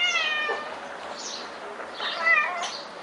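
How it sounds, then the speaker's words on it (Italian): A cat meows repeatedly at its own reflection in a mirror, giving several drawn-out, wavering cries that are close and moderately loud, with no talking. "E quindi il gatto esce di testa."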